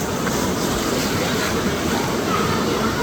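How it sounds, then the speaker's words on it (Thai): Heavy surf crashes at Suluban Beach in Uluwatu, Bali, a steady broad roar of big waves blended with wind buffeting the microphone, continuous and loud throughout. "แต่คลื่นมันโหดมากอ่ะ เดี๋ยวเลยไปดูคลื่นก่อน"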